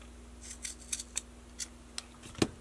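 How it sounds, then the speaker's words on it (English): Scissors snip through paper in a run of crisp, quiet, separate cuts spaced irregularly, about eight snips, close by over a faint steady hum, for card-making and journaling crafts. "I'm going to just eyeball cut it with a pair of scissors"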